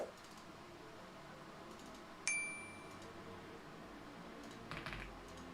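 Soft clicks of a computer keyboard being typed on, faint and sparse, with a single bright chime partway through and a brief quick burst of keystrokes near the end, in an otherwise quiet room.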